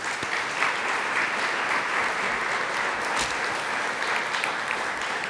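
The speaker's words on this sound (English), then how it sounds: "I want to have you all give a round of applause for Dick." Audience applause at a university athletics senior awards banquet, a steady, full crowd clapping held at even loudness throughout with no talk over it.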